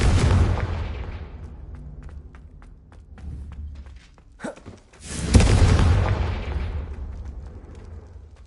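Two loud fiery blasts of the Confringo spell in a Hogwarts video game, each a sharp boom trailing into a long rumbling decay, with a short crack between them.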